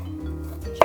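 A sharp knife makes a single crisp cut through zucchini on a board, a short close knock over a quiet room hum.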